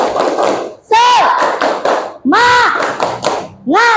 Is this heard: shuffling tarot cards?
no